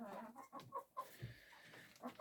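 Soft, quiet clucking from a white hen, a few short murmuring calls in a calm, close setting.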